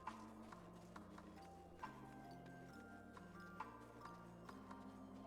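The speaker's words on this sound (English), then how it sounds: "Where's my horse?" A horse mount in the video game Final Fantasy XIV: Endwalker clip-clops with faint, regular hoofbeats set against a looping, low musical soundtrack.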